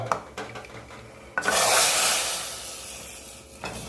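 A burst of sizzling erupts as cumin, mustard seeds and red chilli hit hot oil for tempering red lentil dal, loud then gradually fading, with scattered clinks and stirring before and after.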